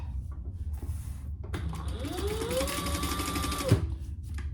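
A sewing machine runs a long basting stitch around the edge of a zippered fabric pouch, a steady mechanical whir that rises and holds for a couple of seconds before stopping with a clunk, with quiet room noise around it.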